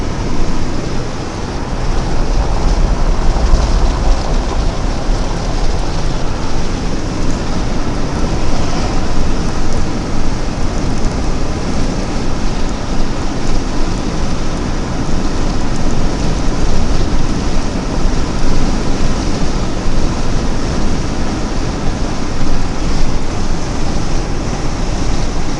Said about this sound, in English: You see how bad the wind is blowing?